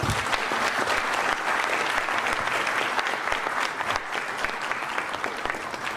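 A room full of people at a heraldry society's year-end ceremony applauds, with dense, sustained clapping that carries on steadily throughout.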